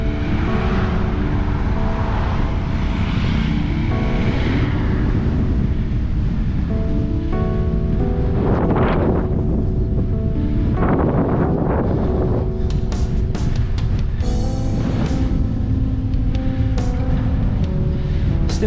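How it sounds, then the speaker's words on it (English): Strong sea breeze buffets a microphone on a walk near the Gosport waterfront, a constant loud roar of wind noise throughout with faint surf and traffic beneath and some brief tonal clatter later. "Still quite breezy, but I think without the breeze it'd be unbearable."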